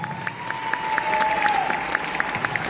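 Loud, steady applause from an audience at a Safe Shop diamond celebration, with dense continuous clapping throughout.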